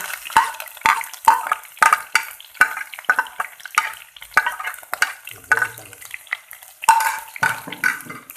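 Green garlic sizzling and crackling in hot oil for Sindhi thoomaro, with repeated stirring scrapes in an irregular rhythm close by.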